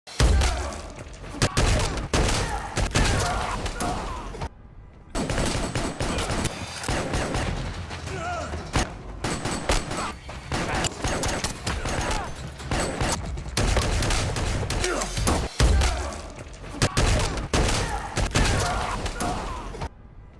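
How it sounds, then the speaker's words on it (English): Rapid gunfire from a crime thriller scene as an assassin shoots down pursuing hitmen during his escape, with loud continuous bursts of automatic fire, booming shots and crashing impacts, a brief gap near five seconds, under a dense cinematic mix. "John shoots them all dead as he gets away."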